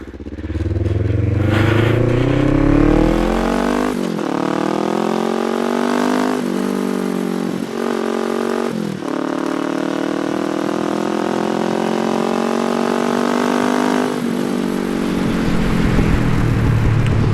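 Kawasaki ER5 motorcycle engine cranking and catching, then running loudly up close with rising and falling revs across the clip, the rider trying to start it in a forest.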